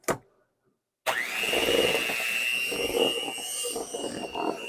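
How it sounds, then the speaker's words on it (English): A short clatter and a second of silence give way to an electric hand mixer whirring steadily as it beats peanut butter and a brick of cream cheese in a bowl, its high motor whine holding close and loud. "in this bowl, I have a half a cup of peanut butter and 1 brick of cream cheese. And you want to mix that"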